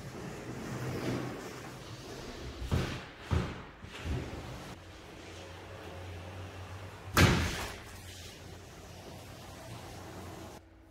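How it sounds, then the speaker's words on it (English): Large panoramic sliding glass doors in a house roll open, with a low rumble of the panels gliding and a few sharp knocks and thuds as the sections move and latch, amid quiet room noise. "show you how these doors open up."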